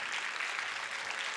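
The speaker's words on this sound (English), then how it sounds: "One round of applause to this entire orchestra of violin," Audience applause at the Sangeet Symphony 2015 concert for an orchestra of violin, guitar, keyboard and mridangam players, a dense, steady crowd clapping that fills the whole brief moment.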